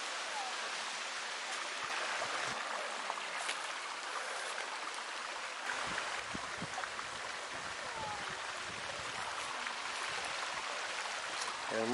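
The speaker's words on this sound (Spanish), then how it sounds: "Y aquí está la cascada principal, el Pozo del Indio." Waterfall and stream at Pozo del Indio on the arroyo Tanti, a steady, continuous rush of falling and flowing water heard alone at moderate level throughout.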